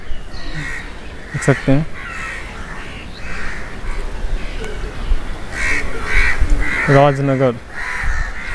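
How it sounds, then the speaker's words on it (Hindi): Crows caw repeatedly at a railway station in India, harsh calls in two bursts near the start and later, mixed with platform ambience while someone talks over them. "कौवा सब बहुत चिचियाता है।"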